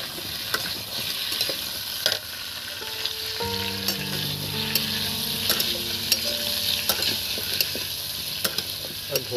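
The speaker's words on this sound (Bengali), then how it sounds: "এবার গাজরও দিয়ে দিচ্ছি বন্ধুরা, দিয়ে এটাকে আমি বেশ কিছুক্ষণ নেড়ে চেড়ে নেবো।" Bhog khichuri with carrots for Saraswati Puja is stirred in a pan, giving a steady close sizzle. Scattered scrapes and taps of the spoon against the pan sound over the sizzle, with a faint tonal hum underneath.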